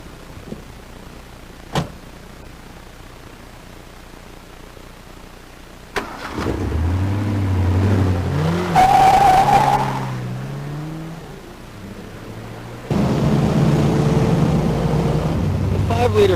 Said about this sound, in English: The 5-liter V8 is really a smooth, powerful engine.